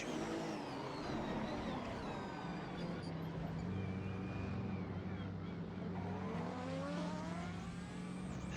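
Racing cars in a virtual endurance race video game, a steady blend of engine whine and revving with rising and falling pitches as several cars run together, continuous and dense throughout.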